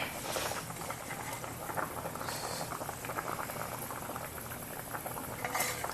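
Fish curry broth bubbles at a steady boil in a pot, a dense continuous patter of popping bubbles, close and fairly loud, with no one speaking.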